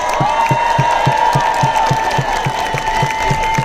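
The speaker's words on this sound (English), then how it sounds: "So let's have a big round of applause for a real dentist, Zach Cox." Crowd at an anti-vaccine and anti-mask street demonstration bursts into loud, sustained applause and cheering, steady clapping under whoops, close and continuous throughout.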